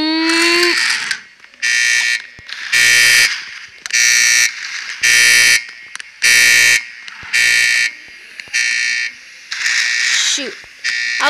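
Loud electronic alarm beeps in the Roblox game Mad City, about nine evenly spaced pulses repeating steadily, with a brief voice near the start.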